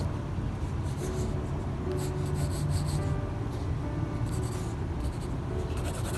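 Pencil drawing by hand on paper, with soft continuous scratching and rubbing strokes close up, some short bursts of quicker hatching, and no talking.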